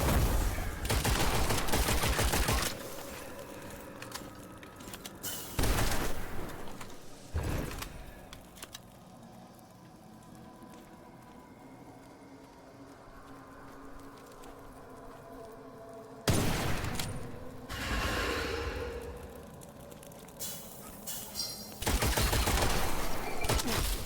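Gunfire from a weapon in the shooter Witchfire erupts in several heavy bursts separated by quieter stretches of rumbling ambience and distant rattles, the shots loud, booming and close.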